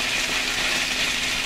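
Salmon fillets sizzling in a hot pan while a crème fraîche, dill, wine and caper sauce cooks, giving a steady, close hiss of frying with no talk.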